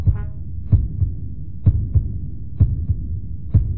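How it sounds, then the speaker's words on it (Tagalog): Heartbeat sound effect, a steady lub-dub pulse of deep thumps roughly every second, loud and alone with a faint hum underneath. "Ang lakas po ng tibok ng puso ko!"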